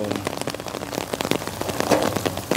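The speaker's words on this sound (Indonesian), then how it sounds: "Iya, semakin hujan deras teman-teman." Heavy rain pours steadily on a low riverbank embankment during a thunderstorm, a dense and loud hiss of drops close by that continues without a break.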